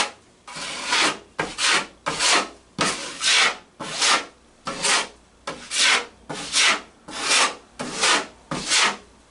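Putty knife scraping and spreading a thin first coat of joint compound over a drywall hole patch, about ten rhythmic strokes in a row, close and fairly loud, with no talk.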